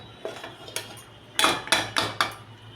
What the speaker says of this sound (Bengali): ঢাকাটা খুলে দিলাম।